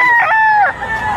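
Rooster crowing at a busy poultry market in Lipa, Batangas, a single close, loud cock-a-doodle-doo with a drawn-out tail.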